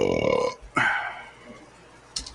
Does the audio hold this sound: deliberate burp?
yes